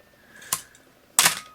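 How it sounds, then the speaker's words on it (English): A Canon AE-1 35mm film SLR fires its focal plane shutter twice, each release a sharp, close mechanical click in a quiet room, the second slightly louder. "we can see the focal plane shutter, and it's working properly"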